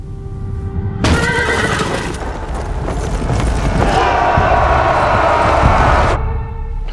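Cavalry horses neighing and whinnying in a loud battle scene, with a dense roar of movement and crashing sounds running through the whole stretch and a brief quieter lead-in before the charge erupts.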